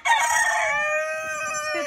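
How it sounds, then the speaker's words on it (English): A single rooster lets out a long, clear crow close to the microphone, its harmonic call steady and then fading. The bird is one of several rescued roosters kept together. "he is surrounded by roosters"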